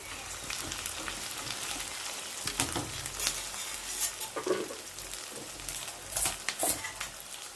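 Marinated fish pieces go into a frying pan for Andhra fish curry and are turned over, giving a soft continuous sizzle with gentle crackles and stirring taps.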